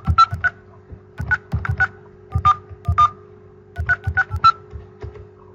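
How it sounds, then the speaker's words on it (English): Telephone DTMF dialing tones, crisp short beeps in quick clusters of two to four, loud and close, separated by brief gaps over a faint steady hum. "And now you can dial again."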